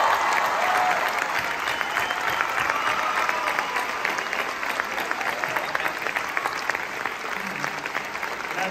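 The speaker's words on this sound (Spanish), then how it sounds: "Un fuerte aplauso, por favor." A big crowd applauds steadily, dense clapping that stays loud and even for the whole stretch with no pause.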